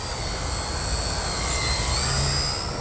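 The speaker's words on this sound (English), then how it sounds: "This plane's ability to just stop and turn on a dime" A Michael Wargo Addiction X RC aerobatic plane flies overhead, its high, thin motor whine holding steady and shifting slightly in pitch as it passes, loud and fairly close with no voices.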